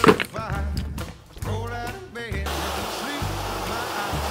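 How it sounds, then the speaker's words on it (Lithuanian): Water pours steadily into a wood-fired hot tub built onto a vehicle. A voice speaks briefly at the start, then a continuous close rushing splash takes over. "Tai varau vandenį piltą."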